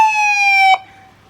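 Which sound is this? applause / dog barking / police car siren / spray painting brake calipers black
police car siren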